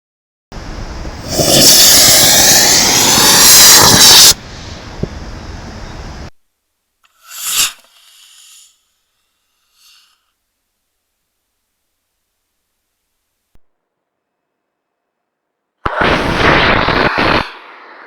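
A model rocket motor on a thrust-vector-controlled rocket fires in flight tests. There are loud bursts of roaring thrust lasting a few seconds each, separated by silent gaps, with a short sharp pop in between.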